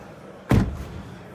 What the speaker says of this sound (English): Now let me close the door.